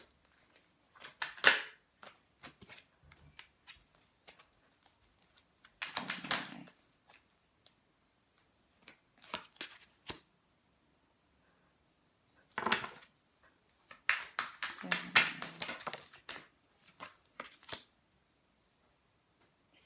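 Tarot cards shuffle and riffle in soft, scattered bursts with quiet gaps between them, close by and faint.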